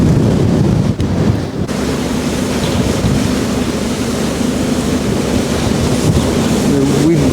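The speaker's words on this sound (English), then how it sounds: "The wind blowing the snow around the land like that." Strong wind sweeps snow across polar land, making a steady loud roar of gusts buffeting the microphone, with a low engine drone running underneath throughout.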